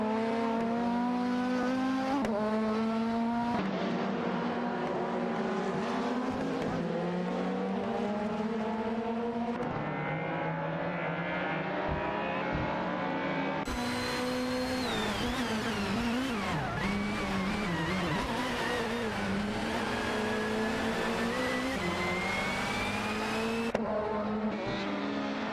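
Race cars in an AI racing video game roar continuously with sustained, shifting engine tones as they run closely packed, revving up and down loudly throughout with no talk.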